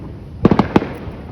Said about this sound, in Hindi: फायरवर्क हो रहे हैं पर हम देख नहीं पा रहे,